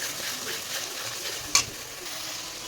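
Onion, garlic and green chilli paste fries in hot oil with a steady close sizzle while being stirred, and a single sharp clink of the spoon near the middle.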